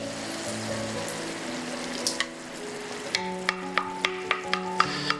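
Tomato sauce goes into a pan of simmering minced meat with onion and carrot for lasagna, giving a steady close sizzle with a run of sharp clicks and scrapes from stirring toward the end.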